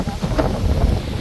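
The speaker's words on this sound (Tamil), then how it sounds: "நல்லா காற்றடிக்குது." Strong wind gusts buffet the microphone on Male Mahadeshwara Hills, a loud, rumbling low roar with rustling texture throughout, and no voices.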